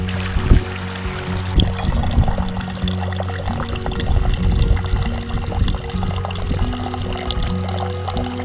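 Stream water trickles slowly through a blue survival water filter out on open moorland, a steady close liquid pour with small splashes running throughout.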